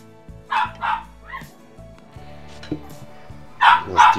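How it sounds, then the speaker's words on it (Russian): A dog barks several times in short bursts, close by, with pauses between, some yips mixed in over a quiet room background while food is cooked in a cauldron over a campfire. "У нас Тима гавкает"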